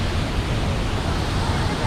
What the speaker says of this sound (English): The waterfall is really strong.